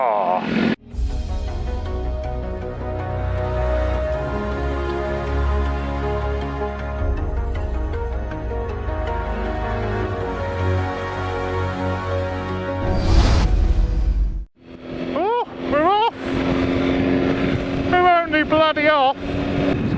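A 2015 BMW S1000RR sport motorcycle ridden on cold, wet roads gives a loud, steady engine and wind roar for most of the stretch, then drops away briefly before a rider's voice speaks over quieter engine hum at the end.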